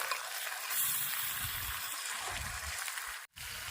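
Chicken curry frying in a pan with potatoes just added, a steady close sizzle with low stirring scrapes and bubbling underneath, cut by a brief silent gap near the end.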